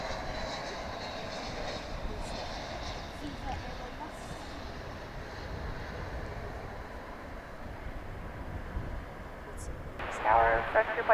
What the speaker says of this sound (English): Sadly, Aerologic is touching down on the east side.